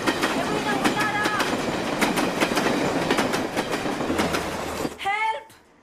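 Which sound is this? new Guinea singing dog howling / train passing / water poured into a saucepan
train passing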